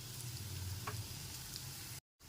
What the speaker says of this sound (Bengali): বড়িগুলো হালকা করে ভেজে নিতে হবে